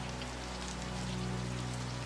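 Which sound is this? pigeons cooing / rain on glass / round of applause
rain on glass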